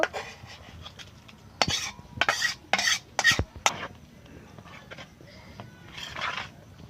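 Fenugreek leaf paratha dough being kneaded by hand, with water sprinkled in as it is worked; close, irregular squelching and slapping bursts separated by quieter pauses, with no talking.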